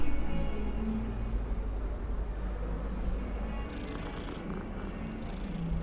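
A cat purrs in the video game Hogwarts Legacy, a steady low rumble that runs unbroken and fairly loud from start to finish with no other voices.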